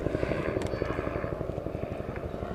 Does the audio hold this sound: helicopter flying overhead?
yes